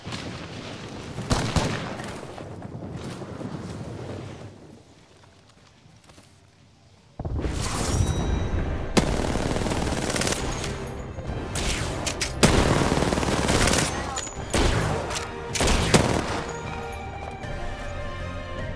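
Airstrike in the battle royale game Apex Legends: heavy booming explosions and crackling gunfire, loud and dense, dropping to a quieter lull midway before erupting again in sustained blasts to the end.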